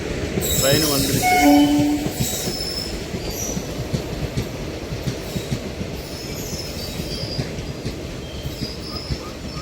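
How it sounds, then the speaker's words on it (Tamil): A passenger train pulls into a station on the Palakkad route, its wheels squealing and the carriages rumbling steadily close by, with a short horn blast near the start and no talk. "ட்ரெயின் வந்துருச்சு."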